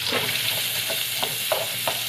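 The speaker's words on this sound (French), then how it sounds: "Ok, fait que mon oignon, on va brasser." Onion sizzles loudly in a very hot pan, a constant crackling hiss cut by several quick scraping strokes of a spoon as it is stirred; no talking.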